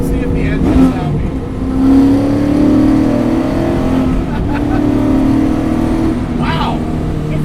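A 650 horsepower 1969 Camaro track car's engine rumbles loudly and steadily, swelling as it revs and pulls, heard from inside the car with brief voices over it.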